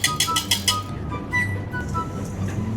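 A whisk clinks rapidly against a bowl while mixing almond flour, cacao powder and powdered sugar, a quick run of bright taps followed by quieter, scattered scraping and clinks.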